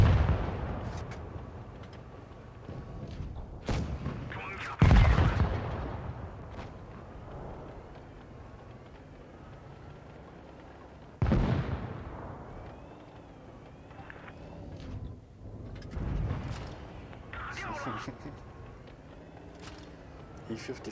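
Heavy cannon shots boom in a tank video game, a few sharp loud blasts spaced seconds apart with rumbling decay, under ongoing talk throughout.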